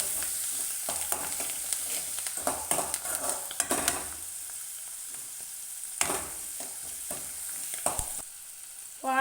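Onions frying in a pan for a Kerala carrot thoran are stirred with a utensil, giving irregular scraping clacks over a steady hiss of sizzling oil, close and moderately loud, with no voices.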